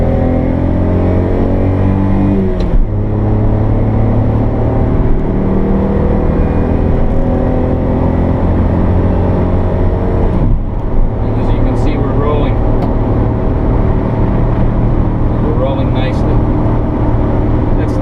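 A small engine of a 1991 Honda Acty kei mini van drones loudly at about 6,000 RPM, a constant buzzing hum with slight pitch shifts, heard from inside the vehicle.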